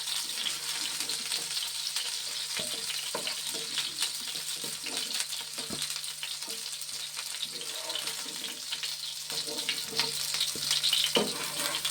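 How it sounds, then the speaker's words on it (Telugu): Tender young vegetables fry in a pan for a curry, giving a steady, moderate sizzle at close range. Occasional stirring clacks and scrapes break through the sizzle, and no one speaks. "వేపుకుంటే బాగుంటాయండి కూరకి"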